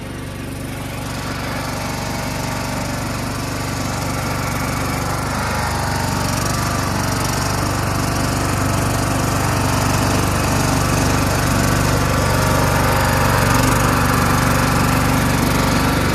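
A Craftsman LT1000 lawn tractor, rebuilt from old parts as a six-wheeler, runs its engine loudly and continuously at close range, a steady droning roar that grows slightly louder over time.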